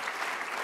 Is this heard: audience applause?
yes